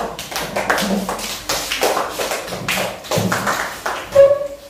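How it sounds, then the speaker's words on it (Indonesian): A classroom of students claps for a presenting group, uneven bursts of hand claps and taps rising and falling across several seconds, with a brief tonal sound near the end. "tepuk tangan buat kelompok 1"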